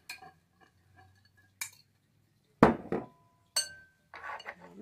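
Utensils clink and scrape against a bowl while creamy cabbage salad with lemon is mixed, in a few separate bursts of clatter and stirring with quiet pauses between.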